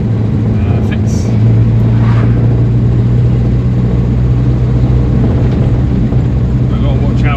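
A 1967 Morris Minor drives along the road, its engine drone low and constant from inside the cabin, loud and steady with faint rattles over the rumble, while someone talks over it.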